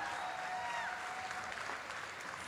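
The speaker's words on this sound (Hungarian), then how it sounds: "Nagy tapsot kérünk szépen az Inuyasha csapatunknak." Steady applause from an audience at a cosplay contest, broad and sustained for the whole stretch, with a few faint whistles over the clapping.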